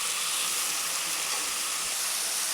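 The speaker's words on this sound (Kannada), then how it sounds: "ಸೊ ಈಗೆಲ್ಲ ಸ್ವಲ್ಪ ಫ್ರೈ ಆಗ್ತಾಯಿದೆ ಎಣ್ಣೆಯಲ್ಲಿ" Spices and tomato fry in oil in a pan with a continuous, loud hissing sizzle that stays even from start to finish, with no talking.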